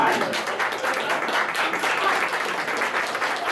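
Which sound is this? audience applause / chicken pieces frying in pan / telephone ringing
audience applause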